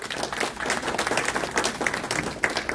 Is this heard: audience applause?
yes